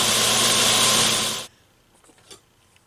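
A belt grinder sanding a knife blade during a repair: a loud, steady whirring grind for about a second and a half that stops abruptly, followed by faint clicks and handling noises.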